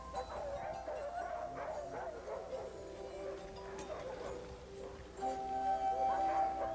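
Sled dogs at a dog sled demonstration in Denali yip, bark and howl together in a steady, excited chorus, moderately close, growing louder toward the end.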